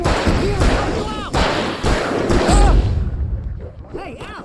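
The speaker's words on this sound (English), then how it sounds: "I can set off more of the fireworks from here and help you out!" Fireworks burst in a loud, rapid barrage of booming pops and crackles in the Alan Wake Remastered game, with shouted voices over the blasts and a lull near the end before a few more bangs.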